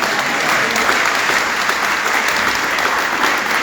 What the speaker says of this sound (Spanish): se escucha como escalonado el aplauso